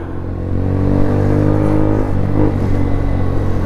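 A scooter engine at full throttle gives a loud, close, sustained drone with strong low harmonics. It holds an even pitch with slight wavering and stays steady for several seconds.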